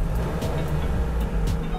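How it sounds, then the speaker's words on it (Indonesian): A Mazda 8 MPV engine revs briefly from a smooth idle, a steady low rumble with slight swells, heard close and continuous without talk. "Ya, nih teman-teman saya geber dikit"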